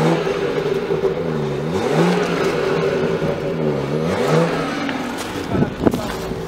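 BMW 5 Series 530d diesel saloon accelerating hard, a steady close engine roar with rising and falling harmonic sweeps as gears change, ending in a brief clatter.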